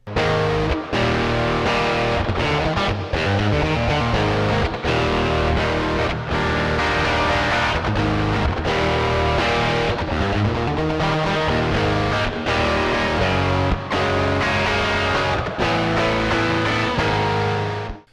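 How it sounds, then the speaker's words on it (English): Two overdriven and fuzzed electric guitar rhythm parts, panned hard left and right, play together as loud, dense, continuous distorted chords throughout. "Now I'm going to play through both sounds at once and pan one hard left and hard right"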